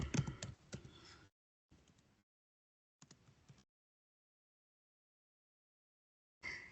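Computer keyboard typing in short bursts of rapid key clicks separated by silent gaps, close and clear, with no talk.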